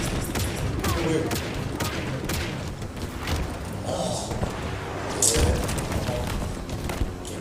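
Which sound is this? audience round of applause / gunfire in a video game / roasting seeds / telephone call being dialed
gunfire in a video game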